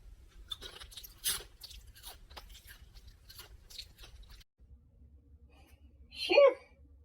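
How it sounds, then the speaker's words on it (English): Loud chewing and crunching of food comes in short bursts, close to the microphone, with a sharper louder crunch near the end; a few faint sounds sit under it. "Stop chewing so loud."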